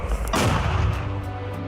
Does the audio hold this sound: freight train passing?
no